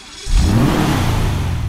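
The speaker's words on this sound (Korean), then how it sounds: "제가 엔진 소리 한번 들어볼게요." Engine of a Dewbauchee Rapid GT Classic car in GTA 5 kicks in after a quiet moment and holds a loud, steady rev with a low growl throughout, with no talk.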